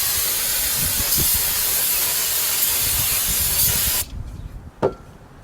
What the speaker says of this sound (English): Spray brake cleaner on it and wipe it down pretty good